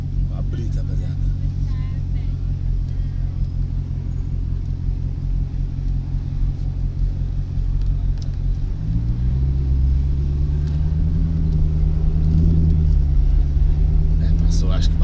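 A Corvette's engine rumbles low and steady near the beach, then revs up and rises in pitch partway through, loud and close, while people talk over it.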